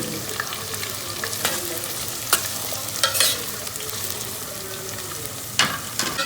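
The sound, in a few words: onions, green chilies and curry leaves frying in oil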